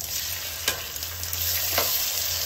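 Tomato pieces fry with ginger garlic paste in a pan, giving a steady sizzle while a spoon stirs through them with a couple of sharp scraping strokes; nobody speaks.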